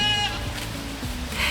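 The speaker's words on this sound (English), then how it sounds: "And the goats are crazy loud." Goats bleating loudly close by, several overlapping wavering cries that rise and fall, with no speech.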